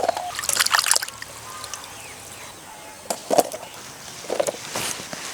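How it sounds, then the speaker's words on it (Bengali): Cut papaya pieces are washed in water, with splashes and sloshing bursts at the start and a few more later, close by and moderately loud. "এবার ধুয়ে নেব।"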